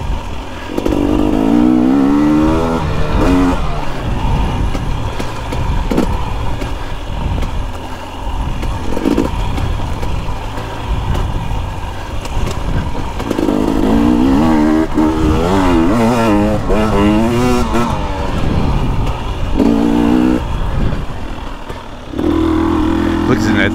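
A 2021 KTM 250XC TPI two-stroke dirt bike revs hard on trails, loud and close, its engine note rising and falling repeatedly as it accelerates and backs off throughout.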